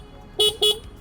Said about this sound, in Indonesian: Coba klaksonnya kita cobain.